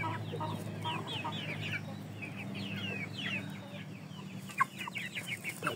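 Indio Gigante rooster and hens clucking nearby, a busy run of short repeated clucks and squawks at moderate loudness over a low background hum, no talking.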